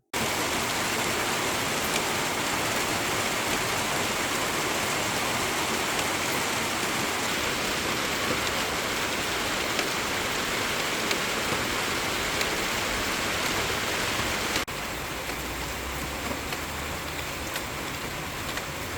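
Steady rain falling over a garden with a permaculture compost bed, a dense continuous hiss that drops slightly in level near the end, no voices.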